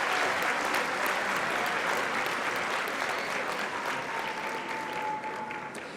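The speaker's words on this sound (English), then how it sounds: "please give a round of applause for the graduates from the Police Foundation's Leadership Program" At a Humber College spring convocation ceremony, an audience applauds graduates of a police foundations leadership program, a continuous broad wash of clapping that fills a large hall and tapers slightly toward the end.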